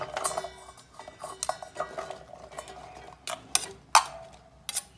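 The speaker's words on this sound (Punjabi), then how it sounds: "ਮਿਕਸੀ ਜੱਗ ਲੈ ਲਿਆ ਇਹਦੇ ਵਿੱਚ ਆਹ ਆਪਾਂ ਕੱਦੂ ਪਾ ਦਿਆਂਗੇ" Pumpkin pieces dropped into a steel mixer jar for a Rajasthani pumpkin kadhi, giving a run of sharp clattering knocks and clinks with brief pauses between them, close and fairly loud.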